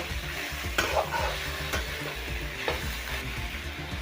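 Chopped cabbage and vegetables for veg chow mein are stir-fried in a pan, with a continuous close sizzle under repeated scraping stirs and a few sharp clinks of the utensil against the pan.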